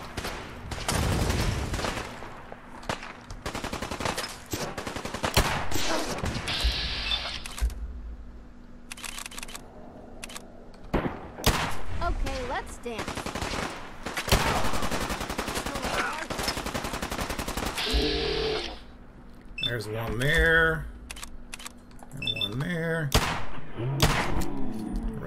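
Gunfire in the video game Fallout 4, with dense bursts of rapid shots and single loud cracks repeating across the stretch, interspersed with mechanical clicks and brief quieter gaps.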